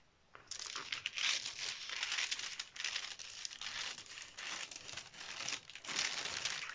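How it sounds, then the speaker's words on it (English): Shears cutting fabric along a dress pattern line for a princess-dart dress make a crisp, continuous rustling and crunching that stays close and steady for several seconds, with no one talking. "Now I'm going to cut this. Just watch. You cut through this line."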